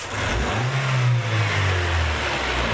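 A car engine is revved hard in a single snap to wide open throttle, climbing quickly from idle, holding briefly, then falling back as it settles, loud and close with no talking.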